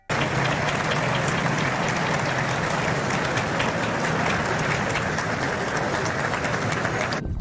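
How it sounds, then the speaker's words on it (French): A crowd gathered in front of the Eiffel Tower applauds warmly, a dense, steady wash of clapping that starts abruptly and holds at full strength throughout, with no voices over it. "c'est qui l'applaudit chaleureusement"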